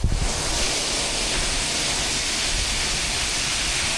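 A steady, full rush of water pouring through a garden irrigation pipe, a constant hiss and roar with no breaks, close and fairly loud.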